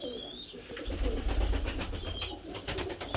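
Two pigeon chicks coo and murmur softly at close range, low throaty sounds under someone talking.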